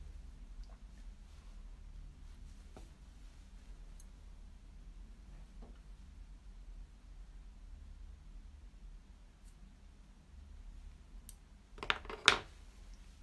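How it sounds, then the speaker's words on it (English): A pair of scissors gives a quick double snip through a woven-in yarn end on a finished sweater, near the end of a long quiet stretch. "that's woven in, so I can just snip that now."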